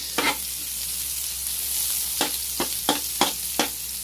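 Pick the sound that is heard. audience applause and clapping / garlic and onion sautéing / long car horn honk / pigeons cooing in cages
garlic and onion sautéing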